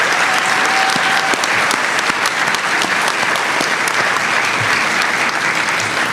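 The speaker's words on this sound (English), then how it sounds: "Please join me in showing our appreciation for these leaders with a round of applause." An audience at a doctoral hooding ceremony claps in a sustained round of applause, dense and even throughout, filling a large hall.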